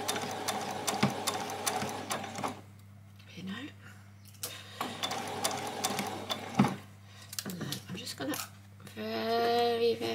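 A sewing machine runs in intermittent bursts of rapid mechanical stitching while a doll's dress is sewn, with short back stitches between pauses and a voice talking over parts of it.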